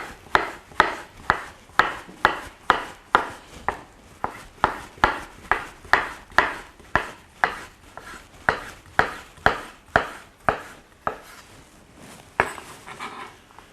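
A knife slices a cucumber at an angle on a cutting board. About two dozen crisp, close knocks fall in a steady, even rhythm with no talking.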